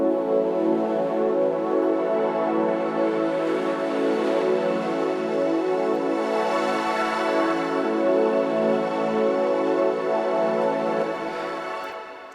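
An ambient synth pad built in Vital with an accordion-style crystallizer and reverb, a dense sustained harmonic chord holding steady and loud throughout, then fading slightly at the end.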